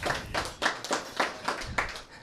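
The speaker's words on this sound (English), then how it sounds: "So thank you to a big applause to our advertisers." Hands clap for advertisers at a community newspaper awards evening, a brisk, fairly close patter of claps in a loose rhythm with no voices over it.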